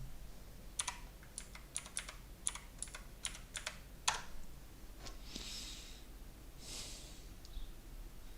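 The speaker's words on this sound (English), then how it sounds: "I'm gonna be typing in the katakana version." Quick bursts of clicky keystrokes on a computer keyboard, close and fairly quiet, in uneven clusters that slow down partway through, with a couple of soft breaths or sniffs near the end.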